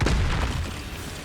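A Confringo fire-blast spell goes off in Hogwarts Legacy as a loud, close boom with a heavy low-end thump at the start, then a rumbling tail that fades over about a second.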